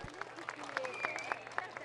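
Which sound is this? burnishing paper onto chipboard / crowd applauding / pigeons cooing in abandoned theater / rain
crowd applauding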